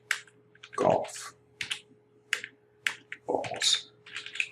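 Computer keyboard typing into an online form: a few scattered key clicks and short bursts of tapping, close and fairly quiet, alone over a faint steady hum.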